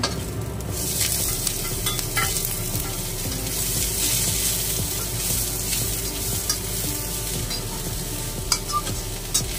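Spring onions stir-fried with garlic and ginger in a pan give a steady, close sizzle with scraping stirring strokes throughout, and no one speaks.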